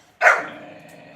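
A single sharp bark from a puppy recovering from mange, loud and close, fading out quickly.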